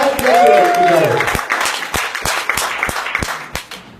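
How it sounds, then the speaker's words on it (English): Scattered applause from a small audience marking parents' fiftieth wedding anniversary, starting under a voice and thinning into a handful of distinct, separate claps. "Round of applause, 50 years, 5 decades together."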